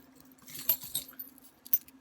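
Small metal key rings jangle in a few quick, light clinks, close and quiet, with no talk, clipped to a homemade fidget toy made of gel rubber bands and beads.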